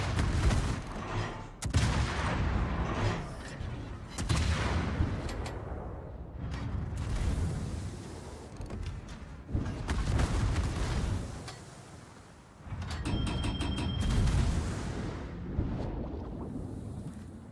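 Heavy ship guns on the Surcouf fire in a naval video game, sounding as repeated booming salvos separated by short lulls, loud and rumbling, with mechanical clanks between shots and no voices.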